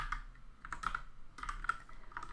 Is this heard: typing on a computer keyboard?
yes